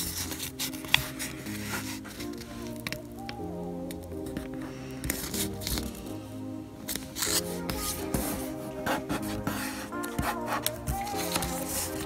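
Paper being folded diagonally and creased for an origami transforming rose cube: close, continuous rustling, rubbing and crinkling with sharp creasing scrapes, alone without talk.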